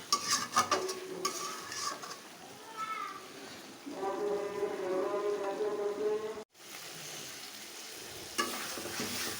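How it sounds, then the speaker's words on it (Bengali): A spoon stirs food in a cooking pot on low heat, scraping and clinking against the pot over a soft sizzle, with a brief pause and a short stretch of voice-like tones in the middle. "একটু নেড়ে দেই, একটু নেড়ে দেওয়া হয়েছে।"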